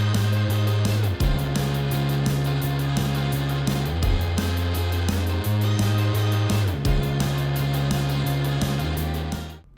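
Home-made indie rock song playing back, with full band instrumentation, a steady driving beat and shifting bass chords, loud and continuous throughout.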